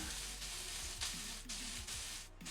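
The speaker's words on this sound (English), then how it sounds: "this is gonna get real loud and sizzly" Steady hissing sizzle of onions frying in a hot pan, continuous and fairly close, with faint low rumbling underneath.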